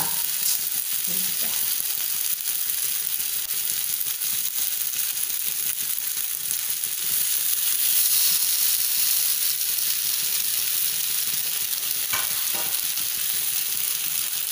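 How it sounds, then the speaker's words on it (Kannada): Malpua frying in oil over a medium flame, a steady close sizzle that runs unbroken throughout, with a faint scrape of a utensil now and then. "ಇಂಚೇನೆ ಮೀಡಿಯಂ ಫ್ಲೇಮಡು ಫ್ರೈ ಆಯ್ರೆ ಬಿಡೋಡು"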